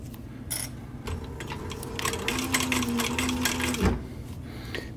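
Sewing machine stitching the brim of a short-brim cap with its needle down, a close, rapid mechanical whirring and clatter that runs in bursts with brief pauses.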